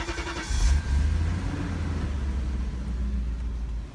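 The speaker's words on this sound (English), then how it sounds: "The car should start." A BMW E38 740i engine, after a fuel pump repair, cranks and catches, then settles into a steady low idle rumble close by, with no talking.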